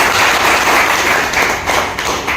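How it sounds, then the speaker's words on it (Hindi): An audience at an anniversary celebration in a cafe claps loudly and continuously for a couple of seconds, a dense, even wash of many hands. "मैं चाहूँगा सबसे पहले एक जोरदार और शानदार ताली होती है"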